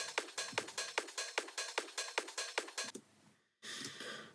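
A mellow drum loop from a music production plays a steady run of evenly spaced, punchy hits for about three seconds, then drops briefly before a sustained softer wash resumes.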